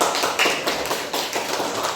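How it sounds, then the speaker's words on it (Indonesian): Students in a classroom clap for a classmate, a steady run of overlapping hand claps at close range and fairly loud, with no talk over it. "tepuk tangan untuk teman kita"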